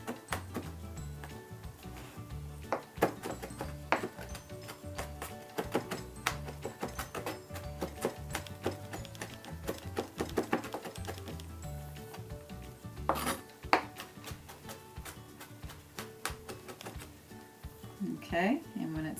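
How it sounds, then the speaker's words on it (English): A garlic clove being minced with a knife on a board, giving a long run of quick, irregular chopping taps and scrapes close by, with a person talking throughout. "Smash the garlic clove, and then you're going to mince it."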